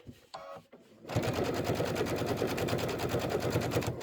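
Embroidery machine stitching quilting lines on a Kimberbell pillow, with a steady, rapid mechanical chatter after a brief quieter start; close and continuous.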